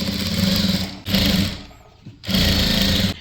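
A sewing machine stitching along a fabric edge with white thread for chudithar pants: loud, close mechanical whirring in three bursts of about a second each, separated by brief pauses.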